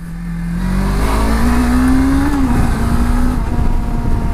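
A Suzuki V-Strom 250 motorcycle engine revs up and holds a high, buzzing note, loud and close, with pitch climbing steadily then settling.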